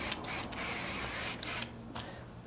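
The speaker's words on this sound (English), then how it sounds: "I'll spray paint a little bit what I'm thinking." Spray paint can marking the ground for a backyard waterfall build, a few short hissing bursts close by, the last ones slightly softer.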